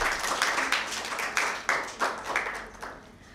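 Applause for team A at a Bible quiz in a girls' school hall, a burst of clapping from a group that swells in several waves, then tapers off.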